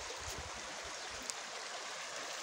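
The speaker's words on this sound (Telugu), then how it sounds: "ఇలా నీళ్ళు ప్రతి చోట ఇట్లా భారీగా పారుతున్నాయి" Water in a stream flows heavily in a rural outdoor setting, a continuous broadband rushing and gurgling that stays steady and moderately loud throughout, with no voices.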